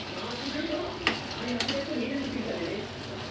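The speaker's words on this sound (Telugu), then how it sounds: "ఇప్పుడు ఒకసారి అంతా దీన్ని కలిపేసుకోవాలి" Tomato egg curry masala being stirred in a pan, a steady scraping and sizzling that runs throughout with a few sharper utensil knocks, fairly close.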